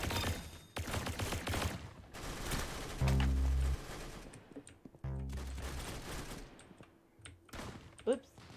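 Shotgun blasts in the Roblox Arsenal video game ring out in several sharp, loud bursts, with clusters of shots and brief pauses between them over a busy game soundscape.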